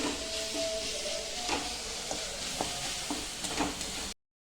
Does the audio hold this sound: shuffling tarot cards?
no